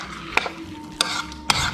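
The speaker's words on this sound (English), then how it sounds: "We mix them well with the rice." A spoon stirs rice coated in olive oil with cinnamon, turmeric and cardamom in a pot, giving three distinct scraping clinks about half a second apart over a low sizzle.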